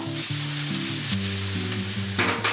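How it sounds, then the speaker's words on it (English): Onions for a feta and tomato omelette sizzling in a hot pan, a steady bright frying hiss heard close, with music playing underneath. "my onions are almost done sweating"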